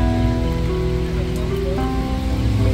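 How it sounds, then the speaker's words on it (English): Heavy rain drums steadily and loudly on a nearby surface in downtown Portland, Maine, a constant dense hiss with no pauses. "it is pouring rain"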